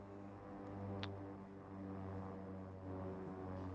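Propeller turboprop engine of a King Air 350 in X-Plane 11 held at about 1500 RPM, a steady droning hum with strong tonal harmonics, even and sustained at moderate level.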